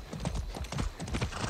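In the Far Cry 6 video game, a ridden horse's hooves clip-clop in a steady, quick rhythm, close and continuous, with no voices over them.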